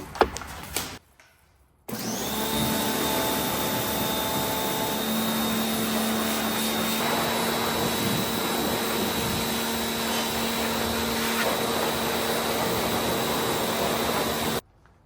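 A pressure washer blasts the engine bay of a 1965 Ford Galaxie 500, its loud steady motor roar and hissing spray running unbroken for about thirteen seconds after a brief quiet start, then cutting off.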